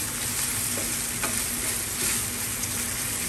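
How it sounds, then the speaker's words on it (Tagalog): Pork browns in a pan, giving a loud, close, continuous sizzle and crackle with light stirring scrapes, and no voices. "Pa-brown ko muna yung pork."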